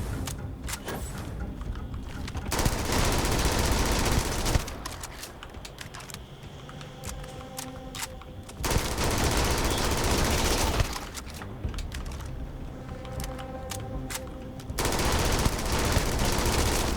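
Sustained bursts of automatic gunfire in the sci-fi video game Starfield, rapid loud volleys broken by short lulls across the stretch, with a mechanical clatter between bursts and no talk.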